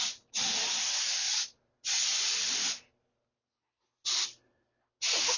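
A spray gun lays clear coat on a classic car in four sharp hissing bursts, each about a second long, separated by short silent gaps, close and fairly loud.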